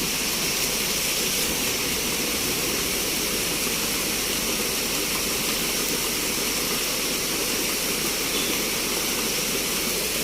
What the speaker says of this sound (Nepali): हामी पुरा मूलको पानीमा गाडी धुन्छ